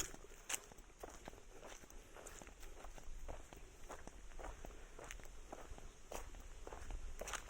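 Footsteps walk steadily across open farmland with a string of light, evenly spaced crunching steps close by, and faint background ambience underneath.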